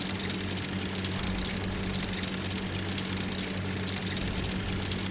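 A Hanomag half-track engine in the World War II game Forgotten Hope 2 runs at a steady low idle-like rumble, with a constant drone and no talk over it.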